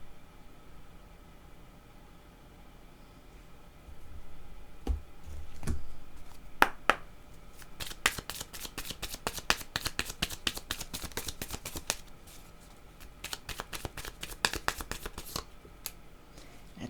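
A deck of cards is shuffled close by, with a burst of rapid riffling flutters and clicks repeating over several seconds against a quiet background hiss.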